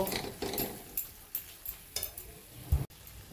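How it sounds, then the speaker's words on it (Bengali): A spoon stirs meat masala into a frying spice mixture of melted tomatoes in a pan, giving soft repeated scraping strokes over a faint sizzle, with one louder clank near the end. "মিট মশলাটাও ভালো করে মশলার সঙ্গে মিশিয়ে কষিয়ে নেব।"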